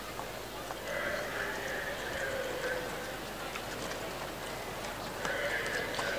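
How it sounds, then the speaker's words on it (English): Horse hooves clip-clopping steadily on the track at Alexandra Park, Auckland, before a harness race, heard over a continuous crowd and ambient hum with occasional whinny-like tones. "Clerk of the Course, Alex McDonald, resplendent on his beautiful black horse there"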